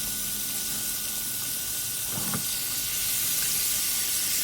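Steady hot-oil sizzle and hiss as flour-coated fish fries in a pan, with a brief louder crackle partway through; no voices.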